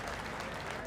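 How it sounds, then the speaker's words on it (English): A grandstand crowd at a drift competition in Ireland roars with sustained cheering and applause, a dense wash of voices that fills the whole moment without a break. "a big cheer erupts from the grandstand"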